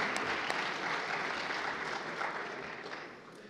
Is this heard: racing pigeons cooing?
no